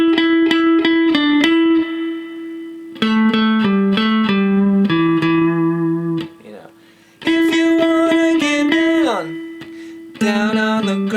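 An electric guitar picks out a melody in short phrases of repeated sustained notes with bends and slides, clear and close, separated by brief pauses.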